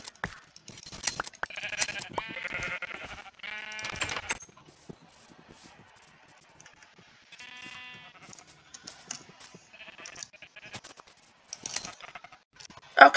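Sheep in a Minecraft-style survival game bleat in short repeated baa calls scattered across several seconds, interspersed with clicks and faint game sounds, fairly close and without talking.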